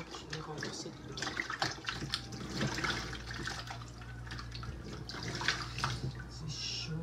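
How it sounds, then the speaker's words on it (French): Water poured out in a kitchen while cooking chicken wings and plantains, a fairly faint splashing and trickling stream lasting several seconds with small clatters around it. "Ce que je vais faire maintenant, je vais renverser de l'eau."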